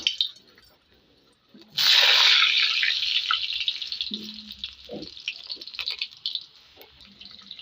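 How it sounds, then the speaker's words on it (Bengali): Potato pieces drop into hot oil, setting off a sudden loud sizzling burst that gradually settles into a steadier bubbling fry, close by, with a few faint background sounds. "তেলটা গরম হয়ে গেছে, এখন আমি এর মধ্যে আলু ভেজে নেব।"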